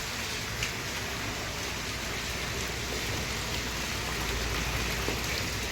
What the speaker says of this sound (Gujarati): અહીંયા તો વરસાદ ફૂલ આવી ગયો છે